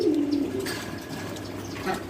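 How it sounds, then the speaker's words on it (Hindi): Low, soft cooing of two male Teddy pigeons close by at the start, fading into a steady background hum. "ये दोनों कबूतर नर कबूतर हैं,"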